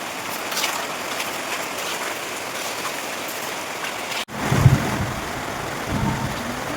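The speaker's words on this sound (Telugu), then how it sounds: "వామ్మో వర్షం అయితే పడుతూనే ఉంది, మామూలుగా లేదు." Heavy rain pounds a brick house under construction while water streams and splashes off a tarpaulin, a steady dense patter with a brief dropout and a few nearer splashes toward the end.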